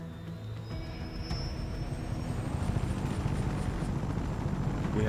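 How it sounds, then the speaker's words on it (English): A helicopter flies in the video game Just Cause 3, its rotor and engine making a broad, continuous roar that slowly builds and stays close. "I'm assuming we use this heli."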